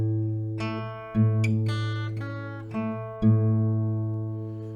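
Clean acoustic guitar notes from the opening A part of a song, picked one at a time in a bright, ringing pattern, several separate plucks sounding close and alone.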